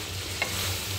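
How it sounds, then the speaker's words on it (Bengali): Chicken with potatoes being stirred and sautéed in a pan after a splash of hot water, a soft continuous sizzle with one brief scrape of the spoon. "সামান্য একটু গরম পানি দিয়ে আর একটু ভালো করে কষায় নেব।"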